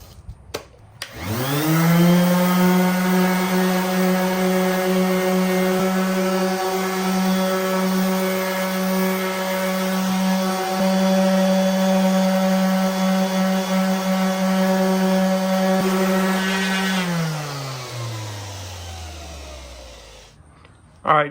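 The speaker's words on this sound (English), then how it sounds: "So I'm gonna get to sanding, and hopefully these clean up." A power sander runs on a 2006-10 Dodge Charger headlight lens, starting with 400-grit paper. It spins up to a loud, steady whine that holds for about sixteen seconds, then winds down to stop.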